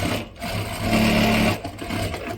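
A Sirius B8-4D lockstitch industrial sewing machine stitching in a short steady run, a loud close mechanical hum and whir that rises briefly then settles.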